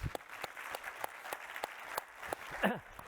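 Scattered applause from a lecture audience after a geophysics talk on the universe's large-scale structure, a modest, fairly quiet patter of separate claps with a brief voice near the end.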